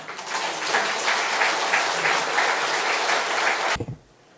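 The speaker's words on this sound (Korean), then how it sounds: "나오실 때 뜨거운 박수로 환영하겠습니다" Sustained applause from a lecture audience welcoming a speaker, steady and dense, then cutting off abruptly into near silence.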